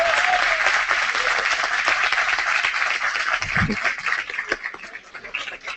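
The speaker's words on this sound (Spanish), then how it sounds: "Un aplauso al candidato que nos acompaña hoy en día." Audience applause for a Progressive Party presidential candidate at a university student-organized talk in Viña, steady dense clapping filling the room throughout, loud and close, with a brief low thump midway.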